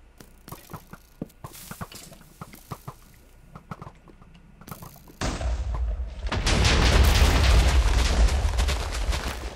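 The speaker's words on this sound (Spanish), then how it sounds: "Voy a ir haciendo varias explosiones." Minecraft explosions: after a stretch of scattered clicks and thumps, a loud broadband blast erupts and swells into a dense, sustained rumble of detonations that fills the rest of the moment.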